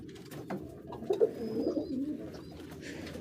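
Pigeons in a pigeon house coo softly in low, rolling murmurs, a few close calls rising and falling with faint chirps in the background.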